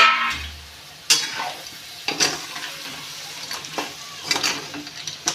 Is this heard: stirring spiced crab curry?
yes